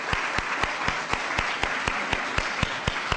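An audience of sixth and seventh graders claps steadily in a quick, even rhythm to welcome the vocal group Sweet Honey in the Rock, a dense wash of hands with regular accented beats.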